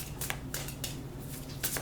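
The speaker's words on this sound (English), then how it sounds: "We'll shuffle that in" A deck of tarot cards is shuffled by hand, producing close, rapid riffling and flicking bursts that repeat over a low steady background hum.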